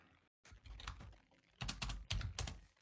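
Keystrokes on a computer keyboard entering a folder name, a quick burst of close, crisp clicks in clusters with short pauses between them.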